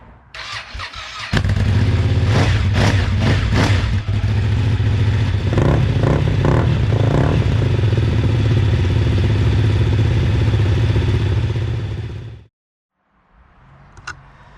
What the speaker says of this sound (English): I'm just going to run the engines now for 5 minutes, get them nice and hot.